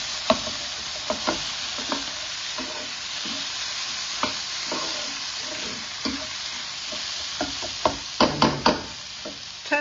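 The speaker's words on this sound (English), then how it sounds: "Then I add that, to my lovely mince, give it a good stir." Lamb mince frying and being stirred in a hot pan for samosa filling, a steady close sizzle broken by the spoon's scrapes and clacks, with a quick cluster of knocks near the end.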